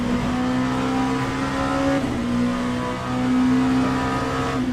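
A race car engine in the sim racing game Le Mans Ultimate drones and revs continuously at a steady, tonal pitch that rises and shifts through gear changes, loud and close, with a faint tire squeal mixed in.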